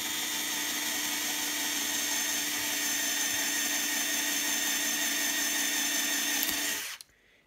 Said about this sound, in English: On some of them you can drill through to the other side.